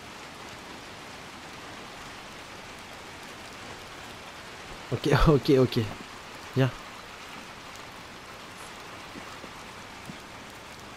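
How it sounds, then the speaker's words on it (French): Steady rain hisses throughout, with a brief exchange of voices partway through; rain effects in the PS5 game Little Nightmares 2. "il y a de très beaux effets de pluie"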